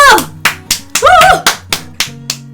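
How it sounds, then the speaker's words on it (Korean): Several sharp claps ring out in a loose, uneven rhythm during an Odin game stream celebration, mixed with a burst of excited voices and a synthetic melodic tone. "다 같이 박수!"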